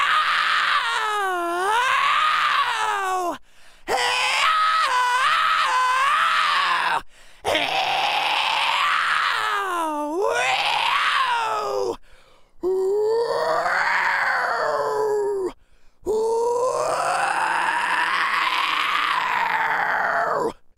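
A single voice demonstrates fry screaming in five long, gritty, pitch-bending screams separated by short pauses, loud and close with no other sound.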